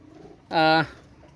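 A Teddy pigeon gives a single short, throaty coo, near and clear against a quiet background.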